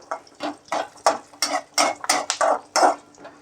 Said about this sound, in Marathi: शेंगदाणे थोडेसे परतून घेतो